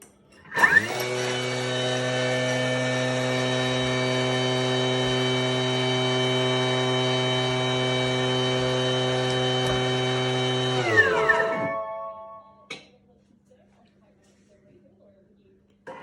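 A Thermomix mills stevia to a finer powder with a loud, steady whirring drone for about ten seconds. The motor then winds down, and faint clicks follow in quiet.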